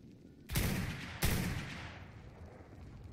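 Two loud gunshots about a second apart in ARK Ragnarok's labyrinth cave, fired at a bat, each followed by a long echoing decay, with no voice over them.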